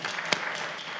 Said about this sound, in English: let's give him a round of applause as he comes